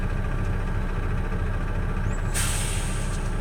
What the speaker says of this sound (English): There's the governor kicking in.